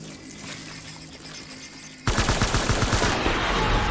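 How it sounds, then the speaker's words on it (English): Rapid automatic gunfire erupts in Death Stranding, a loud, dense string of rhythmic shots breaking in abruptly after a quieter stretch of rumbling ambience and continuing steadily to the end. "Taking fire!"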